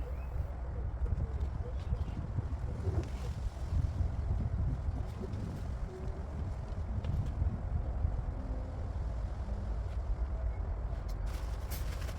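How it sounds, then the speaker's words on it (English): Steady, low rumbling wind buffets the microphone throughout, with faint bird calls and soft background sounds underneath. "Even though it was windy, it was really warm on this day."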